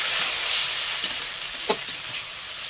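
Cumin powder and chili powder fry in oil in a pan for a Bengali katla fish head curry with cauliflower and potato, giving a steady broadband sizzle with a few scraping stir strokes and no talking.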